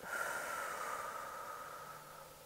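A person exhales deeply in a long, steady, airy breath that fades slowly, close and fairly soft, with no talking.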